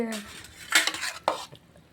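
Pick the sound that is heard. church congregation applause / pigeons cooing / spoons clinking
spoons clinking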